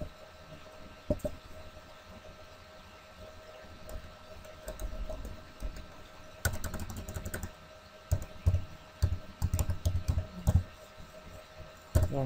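Someone types on a computer keyboard while running MySQL database backup commands at a command prompt. Soft, irregular key taps come in scattered clusters over a faint steady hum, growing busier toward the end.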